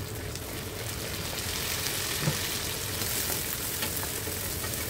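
Tomatoes dropped into a pan of frying chicken curry, sending up a steady, loud, even sizzle with faint stirring scrapes and no voices.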